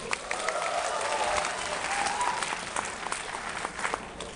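An audience of engineering graduates claps together at a speech event, a dense burst of applause that stays strong and then thins out toward the end, with faint voices mixed in.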